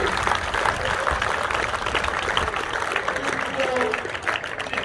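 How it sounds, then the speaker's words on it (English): Applause for Captain Dan at a youth football academy presentation day, a steady wash of clapping from a seated audience lasting several seconds, fairly even in level. "Big round of applause for Captain Dan"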